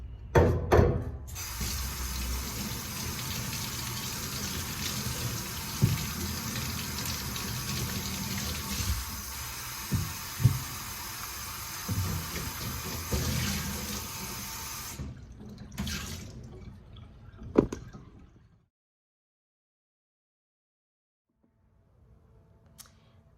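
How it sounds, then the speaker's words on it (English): A pear, a peach and strawberries rinsed under cold running tap water: a steady close splash of faucet flow for about fifteen seconds with small knocks, then the tap shuts off and near silence follows. "run everything under cold running water"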